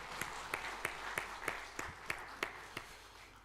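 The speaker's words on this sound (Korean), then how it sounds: "우리 상투스 대원들에게는 귀한 격려의 박수로 함께 박수하겠습니다" A church congregation during a Sunday worship service claps in a slow, even rhythm, about a dozen distinct beats over soft room noise, fairly faint.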